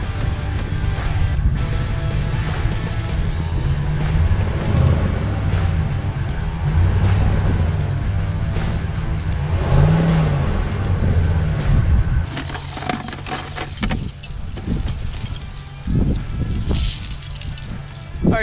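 A RAM 1500 pickup truck is stuck in snow in two-wheel drive. Its engine holds a loud, steady revving drone that wavers in pitch, then turns rougher and more uneven, with scraping crunches mixed in.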